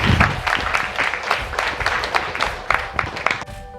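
Applause from a small group, with separate claps heard as uneven bursts and a few sharp loud hits, moderately close and fading slightly near the end.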